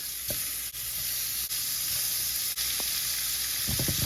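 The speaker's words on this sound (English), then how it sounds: "Once your pan is hot, go ahead and add in your shrimp." Cajun-seasoned shrimp sizzle steadily in a hot pan, a close, even frying hiss with a few faint clinks and a short burst of stirring near the end, no talking.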